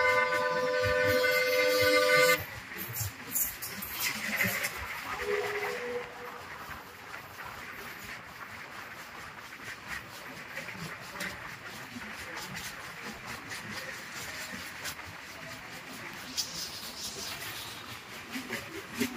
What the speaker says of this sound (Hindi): नांदेड़ DRM की ट्रेन आ रही है।